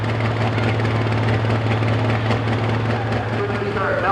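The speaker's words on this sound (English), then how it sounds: "It's not idling right either." A pro stock pulling tractor engine idles roughly at a tobacco-town tractor pull, a loud steady droning rumble that fills the whole clip without a break.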